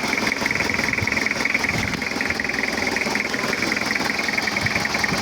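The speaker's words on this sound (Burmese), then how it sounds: "အင်ဂျင်လေးချက်နှိုးပြရမယ်နော်" A car engine idles steadily and close by, a continuous mid-pitched rumble with a faint rhythmic knock running through it and no voices.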